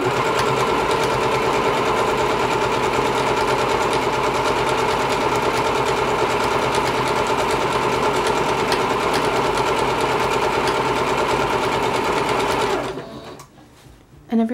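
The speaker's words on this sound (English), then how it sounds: "I'm going to press that button, and it makes 4 stitches, and then I'm going to start." A sewing machine runs continuously while stitching a seam on a Soul Eater Professor Stein cosplay costume, a loud, close, fast steady whir that stops near the end with a brief clunk.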